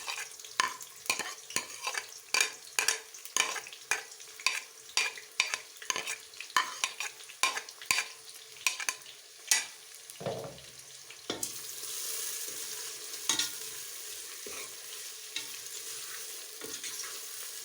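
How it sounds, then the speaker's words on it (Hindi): Finely chopped onions frying in hot oil for a Pakistani chicken chana dal, a steady sizzle broken by a run of sharp, regular stirring scrapes, then a broader, louder hiss near the end, with no voices. "मैं इसमें ये प्याज डाल रही हूँ 2 अदद जो मैंने बारीक काटी थी।"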